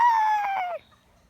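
A rooster crows from a chicken coop, one drawn-out harmonic call lasting under a second, fairly close and clear, then fading into quiet.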